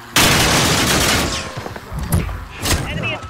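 Loud, close gunfire in a video game opens with a dense sustained burst, then breaks into scattered single shots and short volleys.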